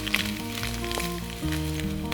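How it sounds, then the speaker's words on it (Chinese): Mashed potatoes with fennel stir-frying in a pan while a spatula presses and scrapes them, a steady close sizzle with soft scraping and a faint tonal hum underneath. "一边炒一边拿锅铲碾压"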